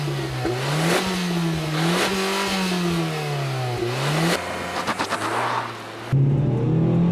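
A 2015 Nissan Juke AWD accelerates hard from a standstill, the engine climbing in pitch through several gear changes with short dips between them, loud and close inside the cabin, then a shift to a steadier drone near the end.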